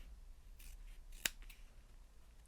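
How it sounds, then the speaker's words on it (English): Scissors snip through fabric at the corners of a sewn bag, trimming diagonal triangles off the seam allowance: a quiet close-up with a few soft shearing sounds and one crisp cut in the middle. "So we're going to cut off those diagonal triangles."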